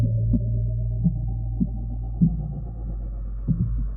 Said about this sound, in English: I composed a score from human heartbeats and radio waves from space